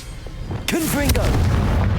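Confringo blasting spell from the Hogwarts Legacy video game going off: a sudden loud boom erupts partway through, with a whooshing magical crackle and rumbling blast that sustains to the end, over low game background noise.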